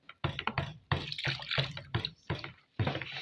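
Alcohols such as methanol and ethanol are poured into a gel hand sanitizer mixture, heard as several separate splashing pours with short pauses between them, with no talking.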